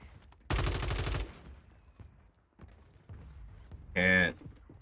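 Gunfire from the XM4 SMG in Call of Duty on Rebirth Island: one loud dense burst of rapid automatic shots up close, a faint shot or two later, and a short loud electronic tone near the end.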